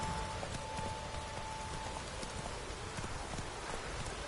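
Hooves of Roach, Geralt's horse in The Witcher video game, clip-clop in a steady, quick rhythm at close range, with a faint rain-like hiss and a thin steady tone underneath and no talking.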